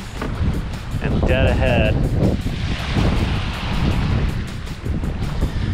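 A sailboat cruises under mainsail and genoa, with steady wind rushing over the microphone and wash of waves along the hull throughout; someone speaks briefly near the start over the constant broadband noise.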